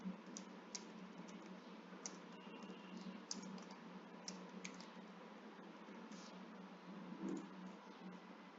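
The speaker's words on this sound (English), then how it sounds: "I type the level name" Someone typing on a computer keyboard while entering a level name into admin software. The keystrokes are quiet, light clicks in an uneven rhythm, heard alone against a soft background.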